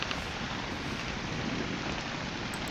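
Steady rain pours in the Ark: Survival Ascended video game on the Ragnarok map, a dense, continuous wash of close rainfall with no voices over it.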